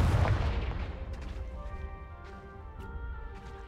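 A Confringo fire-blast spell explodes in the video game Hogwarts Legacy: one loud, close booming burst, then a fading rumble with lingering bright, chiming tones.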